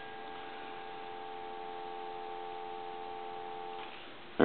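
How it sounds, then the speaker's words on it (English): A steady dial tone from a Western Electric 302 desk telephone hums continuously at low volume, ending abruptly just before a short click at the end. "There's your dial tone."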